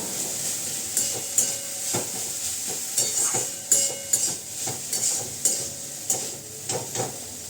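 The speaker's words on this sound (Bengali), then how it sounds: "ওইখানে সজনে ফুল আর আলু ভাজাটা হচ্ছে এখনও হয়নি" Drumstick flowers and sliced potatoes fry in a pan, a steady bright sizzle broken by repeated scraping stirs roughly every half second, close and fairly loud, with no voices.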